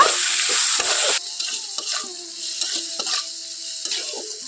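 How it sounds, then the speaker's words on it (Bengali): Chopped ivy gourd fries in a pan with salt and turmeric: a bright sizzle at first, then softer frying broken by repeated scraping stirs of a spatula. "এখন আমি দিয়ে দিচ্ছি এখানে স্বাদ মতো লবণ অল্প একটু হলুদ খুব ভালো করে এটা নাড়াচাড়া করে নেব"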